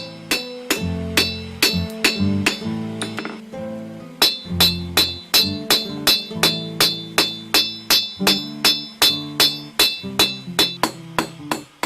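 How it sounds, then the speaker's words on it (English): Steady metallic hammer blows ring out close by as a puukko knife blade is hammered straight, a quick regular series of sharp clanking strikes with a brief pause before the rhythm resumes. "you just do that by hammering it straight again"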